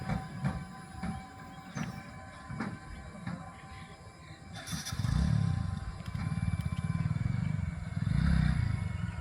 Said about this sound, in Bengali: ছোট রাস্তাগুলোর জাতীয় বাহন ইজি বাইক বা অটোরিকশার শন শন শব্দ শোনা যাচ্ছে